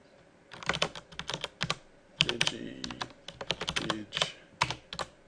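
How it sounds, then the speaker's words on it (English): Fingers typing on a loud mechanical keyboard, quick clattering bursts of keystrokes close up, with brief pauses between runs and no talking. "I have a mechanical keyboard"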